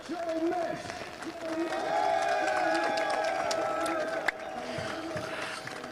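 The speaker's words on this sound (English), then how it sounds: "We can give him a round of applause" A crowd applauds a second-place finisher at a motor racing round at Estoril, steady clapping and cheering under a commentator's voice, with a sharp bang near the end.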